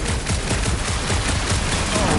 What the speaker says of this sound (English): A couple of shots should bring it down.